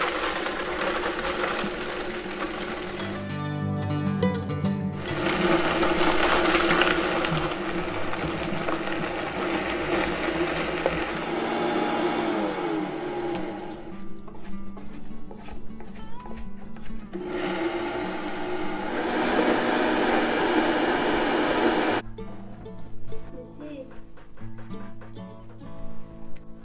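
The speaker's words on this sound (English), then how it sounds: "place the prepared eggshells in your coffee grinder or Vitamix blender" Vitamix blender grinding prepared eggshells into powder, a loud steady whir with coarse gritty rattling that keeps going the whole time and shifts in pitch and texture a few times, with brief dips and surges.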